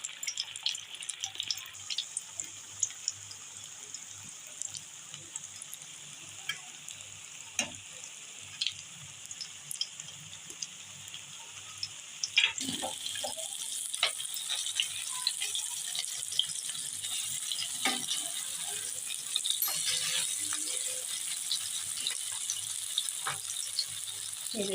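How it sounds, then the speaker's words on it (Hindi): Chicken shami kabab patties frying in hot oil over moderate heat, a soft crackle that swells into a steady, brighter sizzle partway through, close and alone. "अब हम इसमें टिक्कियाँ फ्राई करेंगे।"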